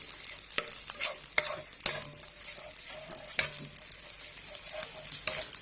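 Ginger garlic paste fries in hot butter, a bright steady sizzle punctuated by sharp spatula taps and scrapes against the pan at irregular intervals, close and clear, no talking.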